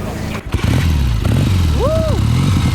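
A motorcycle engine catches and starts after the ignition is switched on, then runs in a loud, close, lumpy idle with a brief rising rev, while a person talks over it.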